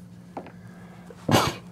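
A single sharp sneeze bursts out close by near the end, after a small catch of breath, with a low hum underneath.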